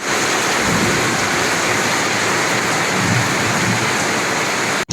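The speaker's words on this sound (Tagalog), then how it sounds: "Umuulan na mga lodi!" A loud, steady wash of rain hisses without a break, close by and dense, with no voices over it.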